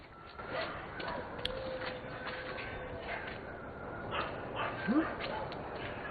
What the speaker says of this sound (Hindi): ये जानवर इसको देख के भौंक रहे थे।